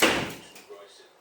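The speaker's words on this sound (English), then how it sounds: "See that fucking door? It won't stay shut" A door that won't stay shut bangs once sharply during Storm Eowyn, the hit ringing off and decaying, followed by a fainter knock as it settles.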